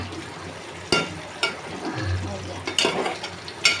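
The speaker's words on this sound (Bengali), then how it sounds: "বাস শাক রান্না আর একটু হইলেই হয়ে যাইবে।" Saag greens cooking in a pan on a home stove: a soft, low sizzle broken by a few sharp clinks and scrapes of stirring.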